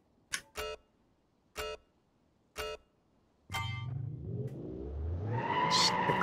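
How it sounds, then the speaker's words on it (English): A sports car in BeamNG accelerates away, engine note rising steadily in pitch and loudness after several short sharp clicks or bursts, heard alone without voices. "Accelerating out in sports mode."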